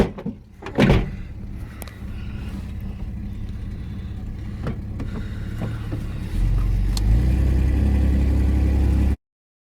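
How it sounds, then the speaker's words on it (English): Inside a 1982 Chevrolet S-10 pickup, a car door thumps shut near the start, followed by a low, steady engine hum that grows slightly louder toward the end before cutting off. "Get the door shut."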